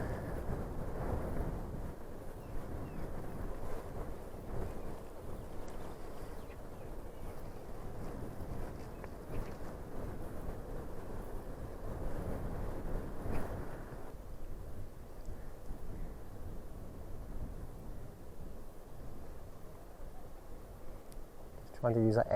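Strong coastal wind buffets the microphone during an electric-powered RC glider flight, a continuous loud rumbling roar that swells and eases, with someone talking over it at times.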